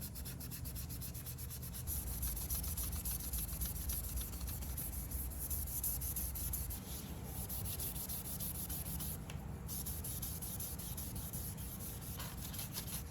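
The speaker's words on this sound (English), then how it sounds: "I got a little scuff pad here. I'm just going to run over these, scuff them up." Scuff pad rubbing over 1987 Ford Mustang GT Foxbody window trim, a steady close-up scratchy abrasion with continuous back-and-forth sanding strokes, fairly quiet and alone.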